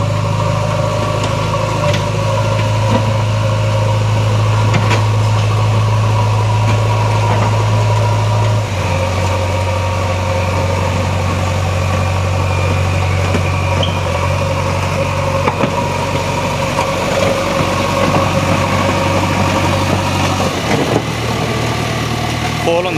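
A tractor engine runs steadily while hauling away excavated mud at a panchayat cleanup site alongside a JCB, a continuous low diesel drone that shifts pitch partway through, with faint voices in the background.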